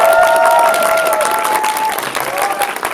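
Cinema audience at a Lotte Cinema World Tower screening of the film 'Idol' cheering and applauding loudly after the film, steady dense clapping with whoops and shouts throughout.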